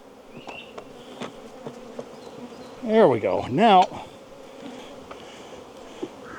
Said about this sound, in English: I am so sorry, bees.